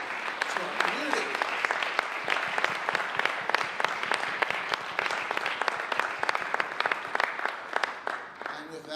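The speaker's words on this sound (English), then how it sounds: "let's give them a round of applause and once again welcome them to our community" A room full of people applauds to welcome new family medicine residents at a red carpet event, dense and sustained clapping at a steady level for several seconds.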